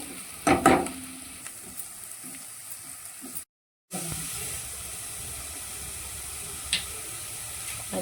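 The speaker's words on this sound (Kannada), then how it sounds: "ಆನಿಯನ್ ಕಂದು ಬಣ್ಣ ತನಕ ಕಾಯಿಸ್ಕೊಳ್ಬೇಕು" Onion frying in a pan until brown for Mangalorean chicken sukka, with a steady low sizzle and hiss. A louder burst of stirring comes near the start, then a brief cut to silence before the frying resumes.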